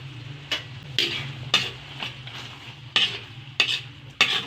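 Pansit bihon noodles with sardines and carrots being stir-fried in a pan, a steady sizzle punctuated by repeated scraping strokes of a spatula or ladle, close and distinct with no talking.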